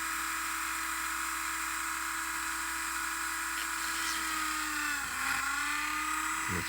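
A Dremel rotary tool whines steadily at close range while working on a plastic model kit part, a constant high-pitched motor hum with slight pitch dips as it bites into the piece.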